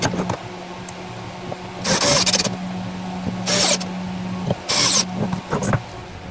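A wood lathe spins a mounted piece of Osage orange, giving a steady low motor hum broken by three loud bursts of rushing, scraping noise, each lasting about half a second.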